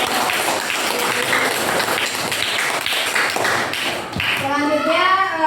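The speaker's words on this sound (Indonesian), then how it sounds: "tepuk tangan untuk Gali" A classroom of schoolchildren claps for a classmate named Gali in quick, patterned bursts that fill the room, and a voice rises at the end.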